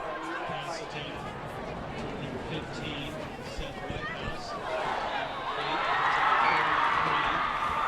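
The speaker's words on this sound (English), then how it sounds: "You can hear the Mountain Crest students." Mountain Crest High School students in the stands at a night high school football game raise a loose, swelling cheer and shouting, building toward the end over a constant crowd murmur with an announcer talking.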